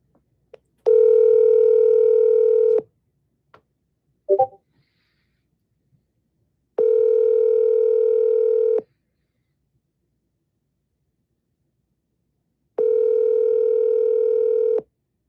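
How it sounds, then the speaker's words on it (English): Three long, evenly spaced telephone ringback tones sound loud and clean as a call is dialed, with a brief click between them and no talking. "I'm gonna double dial."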